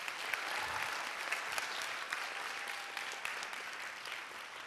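Audience applause during a talk by a nonprofit co-founder, sustained dense clapping from a crowd, steady and moderately distant for the whole stretch.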